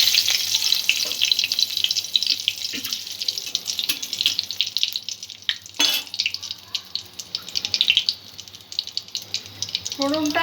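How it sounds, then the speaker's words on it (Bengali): Cardamom pods, cloves and a bay leaf crackle and sizzle in hot oil for tempering, a bright continuous fry with sharp pops, alongside running water and a brief voice. "4টে এলাচ নিয়েছি আর 2টো লবঙ্গ নিয়েছি। এটা ফোড়নের জন্য দিয়ে দেব।"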